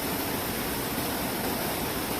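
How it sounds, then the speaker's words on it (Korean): Steady rushing water of a mountain valley stream at Yongchu Valley, Gapyeong, South Korea, roars without a break, a dense broadband wash like a fast stream or small waterfall nearby. "사경내 물소리가 요란하네요."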